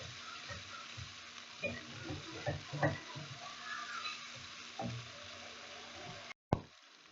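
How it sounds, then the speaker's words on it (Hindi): Keema and bitter gourd fry in a pan, a soft steady sizzle broken by irregular knocks and scrapes of a spoon stirring, fairly quiet, with a sharp clack near the end. "अच्छी तरह से हम भून लेंगे।"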